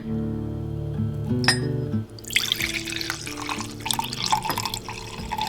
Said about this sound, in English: So I'm gonna pour that right into here.